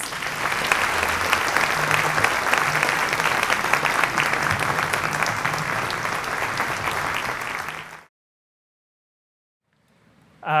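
Audience at a 2014 CCU Symposium applauds to welcome speaker Clint Jenkins: dense, steady clapping fills about eight seconds, then cuts off abruptly into silence before a faint sound returns at the very end.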